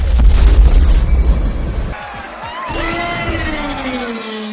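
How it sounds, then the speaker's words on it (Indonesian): An alien spaceship blows up in an animated monster film, a deep loud boom and rumbling blast that fades into a tonal whoosh with crowd-like cheering and a narrating voice. "Dan pesawat alien itu pun meledak"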